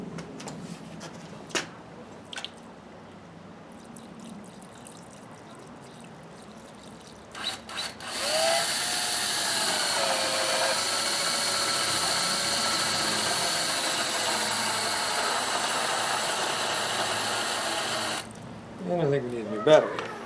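A loud, steady whine of a power drill boring into stone, with a grinding edge, runs for about ten seconds, preceded by faint clatter and followed by brief rustling.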